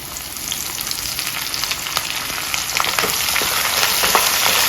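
Dried red chilies and curry leaves frying in hot oil for a sesame rice tempering, a steady bright sizzle with scattered crackles and pops that slowly grows louder, close by with no talking.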